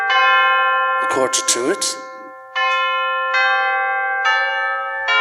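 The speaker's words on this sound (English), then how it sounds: "the hour bell sounded, which it now did with a deep, dull, hollow melancholy" A deep, hollow clock bell in a Christmas Carol radio drama strikes with sustained ringing tones, repeating about four times with a brief voice speaking between the first strokes.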